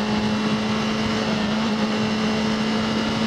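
A car drives steadily along a road, heard from inside as a constant engine hum with road and tyre noise at an even level and no one speaking.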